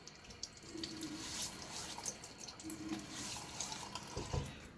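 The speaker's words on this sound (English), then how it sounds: "Let me first splash my face with a little bit of water." Water splashed onto a face from a bathroom sink before shaving, with running tap water, intermittent splashes and drips, moderately close and fairly quiet, with no voices.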